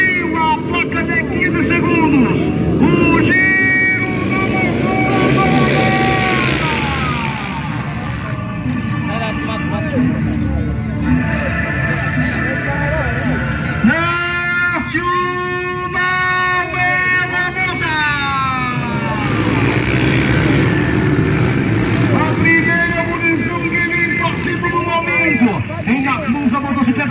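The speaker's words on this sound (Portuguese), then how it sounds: "O giro do motor." Motocross motorcycle engines revving at the start line of a regional championship final in Iati, Pernambuco, with rising and falling whines overlapping under crowd noise and an announcer talking.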